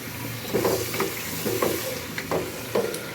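Salan curry frying in a pan, with a steady sizzle broken by rhythmic stirring scrapes about once a second, close and fairly loud, no voices.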